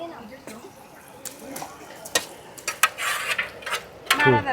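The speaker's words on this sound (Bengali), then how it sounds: "এটা একটু ফ্রাই হতে দেবো" Ginger-garlic paste, tomato and green chilli fry in a pan while being stirred: close scraping and metal clinks over a soft sizzle, with a voice murmuring faintly in the background.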